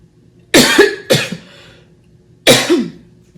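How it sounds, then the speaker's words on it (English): Three harsh coughs, two in quick succession then a third after a pause, close and loud with no talking. "I don't know why I'm coughing."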